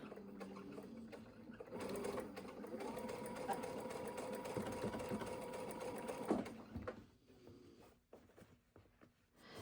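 A sewing machine stitches a curved quilt seam at a 1/4 inch allowance, giving a close, steady whirring run of several seconds that stops, then a few soft fabric handling sounds.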